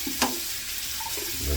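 A safety razor blade rinsed under running water after a shave, heard as a short, steady rushing hiss of the stream with a small knock near the start, close and fairly soft, no voices.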